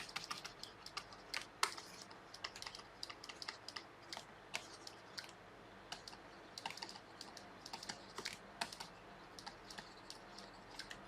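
Steady typing on a computer keyboard, rapid irregular key clicks with occasional louder taps, close and fairly quiet with no talk.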